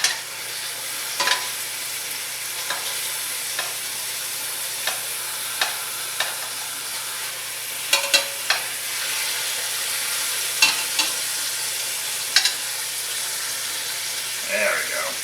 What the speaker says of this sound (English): Look at that, we're getting a good sear.